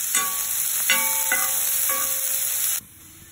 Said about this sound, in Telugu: మిర్చి కూడా వేసి ఫ్రై చేయాలి.